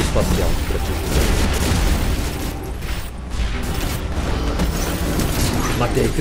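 A space weapon fires in the War Robots video game, a heavy booming blast with mechanical rumble, loud and dense for several seconds with a brief dip midway.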